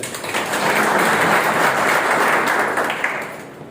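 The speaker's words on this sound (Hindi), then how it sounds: "एक बार अपने लिए जोरदार ताली।" An audience claps loudly for themselves at a business plan seminar, a dense burst of applause that swells quickly, holds, then fades toward the end.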